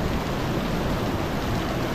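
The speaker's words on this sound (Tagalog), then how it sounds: "Yun o, lakas ng ulan o." Heavy rain pours down steadily, a dense, even hiss of broadband noise with no let-up and no voices.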